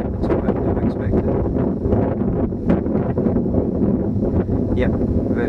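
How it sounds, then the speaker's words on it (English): Strong wind buffets the microphone at a hilltop paragliding site at the Lomonds in Fife, a continuous roaring rush with gusty swells throughout, nearby and loud. "Wind there's picked up a bit more."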